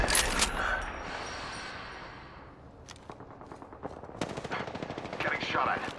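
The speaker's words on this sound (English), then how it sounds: "Getting shot at." Rapid bursts of automatic gunfire and single shots from an online shooter game, loud and dense at first, thinning in the middle, then picking up again with intermittent faint voices.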